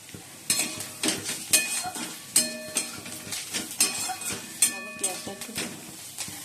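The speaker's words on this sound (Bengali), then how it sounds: "পেঁয়াজটা ভেজে নিচ্ছি" Onions frying in a pan, a steady sizzle broken by repeated scraping and stirring knocks from a spoon, close and fairly loud.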